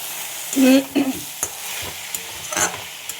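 Spice paste sizzles and fries in hot oil for a rohu fish curry, with a few close scraping stirs near the start and a steady crackling hiss throughout.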